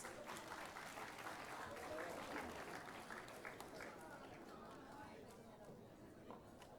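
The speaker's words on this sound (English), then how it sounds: "Let us give our warmest applause to Jamie N. D. Villegas." Audience applause fills a graduation commencement ceremony hall, a steady wash of many hands clapping at a distance, fairly faint, with some murmuring voices underneath.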